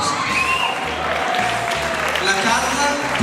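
Steady crowd applause for the Pubilla candidates at a community dinner and presentation, loud and continuous with a hum of crowd noise underneath.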